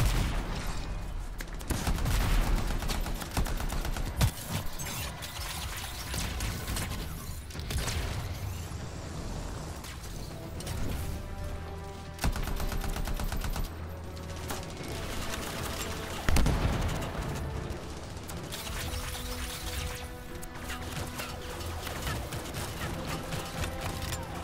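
Gunfire in the video game Anthem, played with an Interceptor during a stronghold, comes as dense bursts of shots and blasts, loud and continuous over a busy in-game soundscape.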